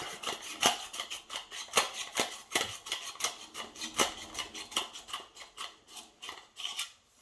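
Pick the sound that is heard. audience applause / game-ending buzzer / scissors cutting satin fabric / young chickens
scissors cutting satin fabric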